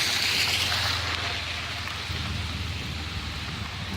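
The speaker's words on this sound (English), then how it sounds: "Well, it's about time it rained." Steady rain pours down in a continuous, even hiss with a low rumble beneath, loud and close throughout.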